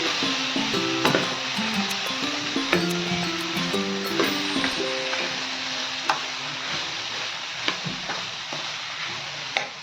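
Large chunks of mixed leftover vegetables sautéing in a pan, with a steady soft sizzle, occasional sharp clicks of a spatula against the pan, and a faint tonal hum underneath.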